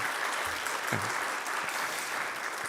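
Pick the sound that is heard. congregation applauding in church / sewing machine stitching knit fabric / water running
congregation applauding in church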